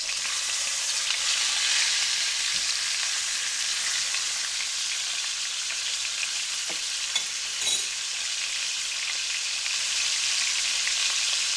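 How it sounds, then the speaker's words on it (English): A pot roast sears in a hot pan, giving a steady, even hiss of sizzling fat that continues unbroken, with a faint clink partway through. "I'm going to let that sear for about 4 to 5 minutes until it's nice and browned on the back side"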